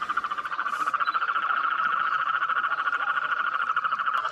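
Toads call from flooded ground beside a lagoon teeming with small fish, giving a steady, rapid pulsing trill that runs continuously and fairly loud throughout, with no voices.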